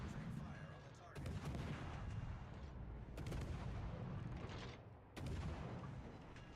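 Weapons fire on a target in a video game, with heavy bursts of shots and booms rolling in repeated waves, loud and dense throughout.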